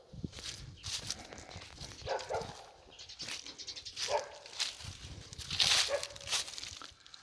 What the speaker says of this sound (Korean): 개들이 짖네